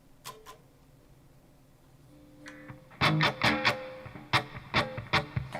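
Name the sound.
electric guitar through amp's green channel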